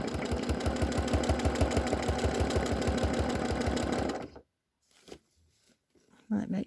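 A sewing machine stitches scrap fabric into postcard-size pieces, running in a fast, steady mechanical rhythm for about four seconds before stopping, followed by quiet handling noises and a brief burst of sound at the end.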